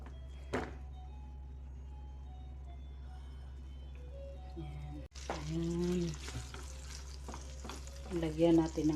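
Ground beef and egg frying and being stirred in a pan, with a low steady hum at first, then louder scraping and sizzling from about five seconds in, with faint clinks near the end.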